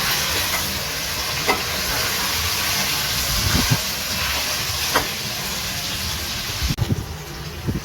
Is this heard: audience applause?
no